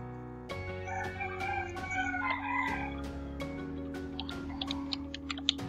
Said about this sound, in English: Oh, there are a lot of chickens.